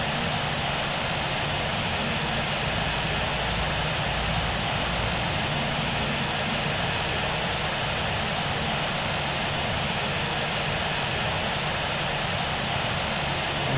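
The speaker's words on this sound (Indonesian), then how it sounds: "Auto start itu untuk menyalakan semua mesin" Aircraft engines run in the Infinite Flight Simulator game, a steady, dense, even roar that holds unchanged from start to finish with no talking.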